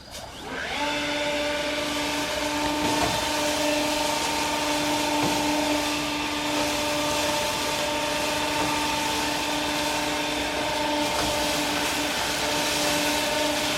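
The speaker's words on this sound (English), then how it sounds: "All he does is bungee cord the piece of gutter to the end of the blower." A leaf blower with a length of gutter bungee-corded to its nozzle drones steadily and loudly for the whole stretch, its motor tone steady and unbroken, clearing a heavy pile of leaves, with no talking.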